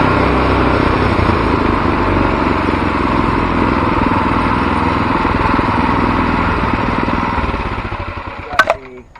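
A Harbor Freight inline twin 424cc engine runs loud and steady with a dense, rumbling drone that fades as it winds down near the end, followed by a few brief knocks.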